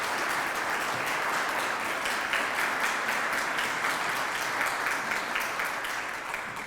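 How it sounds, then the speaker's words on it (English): A crowd at a Teacher of the Year celebration claps for the ten finalists in sustained, even applause that tapers slightly at the end. "Please let's give all of our 10 finalists a round of applause."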